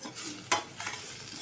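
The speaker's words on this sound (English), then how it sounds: "See, mix well." Gravy for a ribbed gourd dish being stirred as it cooks in a pan, with a spoon scraping through the sizzling mixture in a few quick close strokes.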